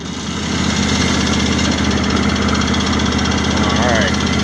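Engine of a 2017 John Deere X350 lawn tractor idling out of gear, a loud, steady, close-up drone that holds evenly throughout.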